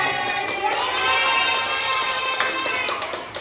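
Class of students at SMKN 4 Garut clapping together in a classroom, a steady, dense patter of many hands sustained throughout with some crowd noise mixed in.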